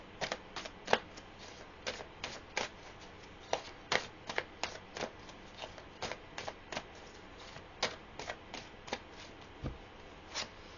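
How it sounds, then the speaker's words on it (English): Tarot cards are shuffled and drawn by hand, making a long series of crisp, snapping flicks and soft riffles in an uneven rhythm, heard close and fairly quiet with no speech over them. "So let me pull 3 more cards and we'll see what else is showing here"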